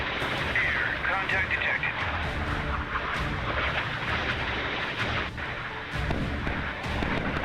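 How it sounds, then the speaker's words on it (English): Naval 5-inch deck guns fire flak rounds in the naval combat game Sea Power, a dense, continuous roar of heavy booming blasts close up, while a radio-style voice calls out over the din. "Here you can see those massive 5-inch guns open up, loaded with flak rounds"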